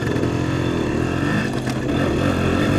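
A 1975 Suzuki RV-90 motorcycle engine idles close by, a steady, unbroken mechanical drone with a slight surge near the middle and no talking.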